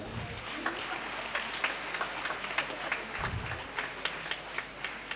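A church congregation claps together during a Maundy Thursday Holy Eucharist at a shrine, a dense, steady patter of many hands that fills the room at moderate volume for several seconds.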